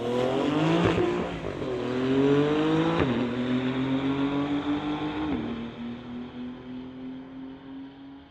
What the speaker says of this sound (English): Clayton Chev, 2021 Tesla from Coquitlam going against the Porsche.